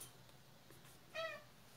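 A single short, faint cat meow comes midway through an otherwise quiet indoor room.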